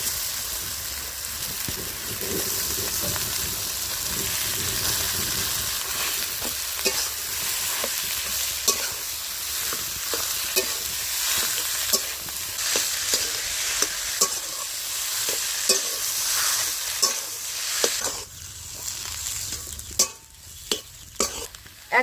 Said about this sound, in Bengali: এইবার সেদ্ধ করা আলু আর মোচা দিয়ে দেব